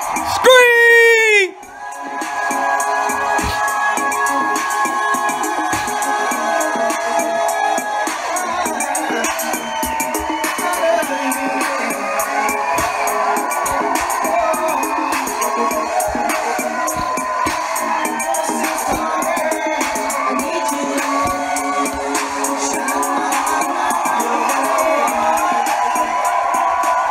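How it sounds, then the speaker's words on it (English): Crowd at a live show screaming and cheering loudly and continuously, a dense roar of voices and whoops after a brief rising shout at the start, with music underneath. "Somebody, anybody, everybody, scream."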